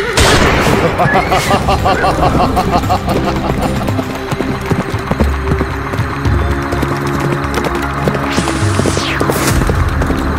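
Cartoon gunfire aimed at a robber, bursts of shots and booms in a busy animated scene with clattering effects and voices talking over the action.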